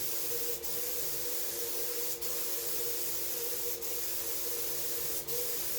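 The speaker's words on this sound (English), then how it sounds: "I'll be applying 3 low luster clear polyurethane finish coats over the sanding sealer." Continuous hiss of a spray gun applying clear low luster polyurethane finish to wooden speaker cabinets, broken by four brief, evenly spaced pauses, faint and steady.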